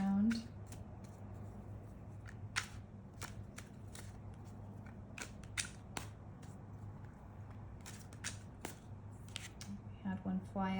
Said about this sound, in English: I'm shuffling here in the background.